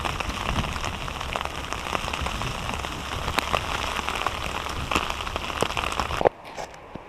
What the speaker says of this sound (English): right now there's a thunderstorm going on